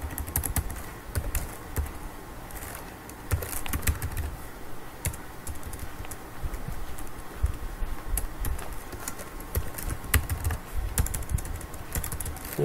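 Rapid, steady clatter of keys on a computer keyboard as Cisco router configuration commands are entered, close and continuous for the whole stretch with no talk.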